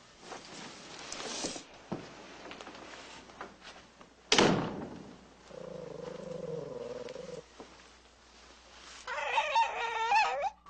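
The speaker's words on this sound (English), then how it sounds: "No, her dog, who she keeps with her constantly." A woman's pet dog indoors at an office barks in a short burst of sharp, fairly loud yaps near the end, after scattered thumps and a door-like bang.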